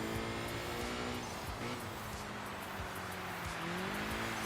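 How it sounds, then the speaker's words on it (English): A Subaru Impreza in the racing game Enthusia Professional Racing slides through corners in a handbrake four-wheel drift, tires squealing in a sustained wail over a steady engine drone that rises and falls in pitch. "Four-wheel drifting out of the corners."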